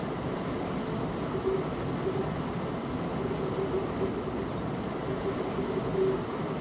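A BR146 electric locomotive rolls along the Cologne–Koblenz line in Train Simulator 2015, giving a steady, fairly quiet rumble with no voices.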